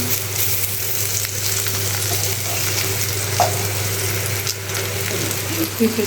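Spiny gourd (kakrol) frying in a pan gives a steady, close sizzle that runs the whole time, with a few faint clinks.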